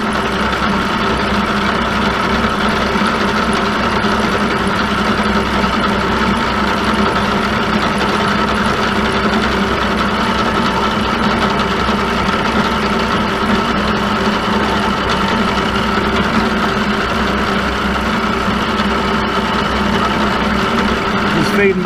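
A face mill with five unevenly seated inserts takes a hand-fed cut across metal on a milling machine fitted with a right-angle attachment, producing a continuous loud droning hum with a steady buzzing texture.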